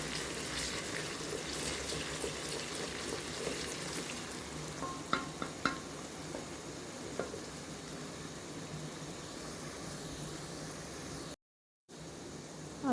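Cauliflower and meat curry base fries in a pan with a steady close sizzle, a few sharp utensil clinks around the middle, and a brief dropout near the end.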